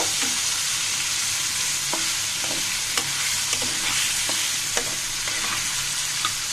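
Chicken pieces frying in oil in a home kitchen, a steady close sizzle with occasional scrapes and clicks of stirring, no voices.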